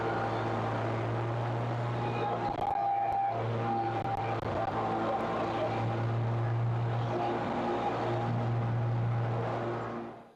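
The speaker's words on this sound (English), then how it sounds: "So I'm gonna mow a little bit" A Kubota Z781 zero-turn mower cutting grass gives a steady, close engine drone with a low humming tone that holds throughout, then fades at the very end.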